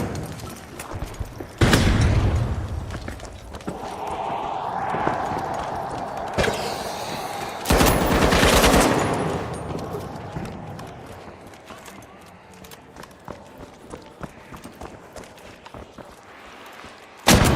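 Frag grenade explosions and gunfire in The Finals, with two loud blasts a few seconds apart, each followed by a ringing tail, then scattered rapid gunshots and clattering impacts, ending in another sharp burst.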